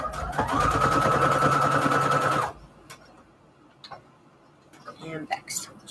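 A domestic sewing machine runs a short burst of rapid stitching as it backstitches fabric onto an index card, then stops; quiet handling clicks and rustles follow close by.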